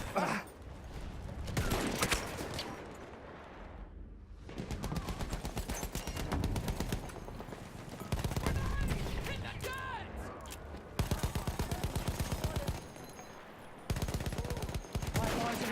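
Battlefield 1 gameplay on the Soissons map brings rapid bursts of gunfire and machine gun rattle, loud and close, broken by brief gaps, with game voices shouting over the fighting.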